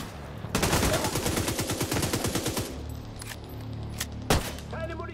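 Rapid automatic gunfire from The Division 2 video game, a dense burst lasting about two seconds followed by a few sharper single shots, loud and close.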